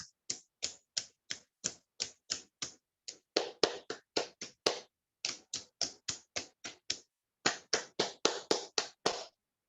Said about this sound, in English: with these 2 hands, let's clap